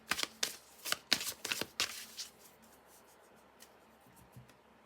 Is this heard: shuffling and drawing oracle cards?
yes